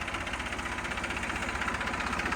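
A new tractor with company fittings idles in a village near Amreli, a steady, even engine rumble with a faint knocking pulse throughout, close and unbroken.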